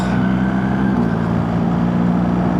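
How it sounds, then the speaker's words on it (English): Steady interior road noise of a car cruising on a motorway: a constant low rumble and broadband roar with no breaks, no talking. "And the noise in the car"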